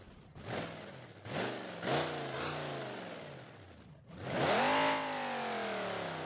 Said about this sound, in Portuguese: Vamos dar uma aceleradinha.